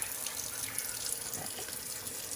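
Water is poured from a jar into a cooking pot while making spaghetti with ground chuck meatballs and bell pepper, a continuous close splashing stream lasting a couple of seconds.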